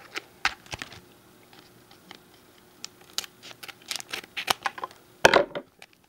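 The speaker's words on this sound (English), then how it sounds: "Grab my scissors." Scissors snipping open a Naruto card booster pack, a few crisp cuts and plastic rustles ending in a louder burst of crinkling near the end, close and alone without talk.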